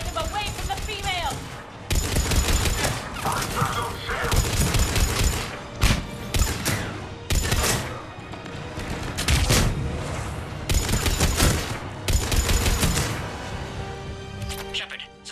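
Dense gunfire in a Mass Effect 3 firefight, rapid bursts and heavy impacts rattling almost continuously with brief lulls, loud and close, with game voices talking over the battle.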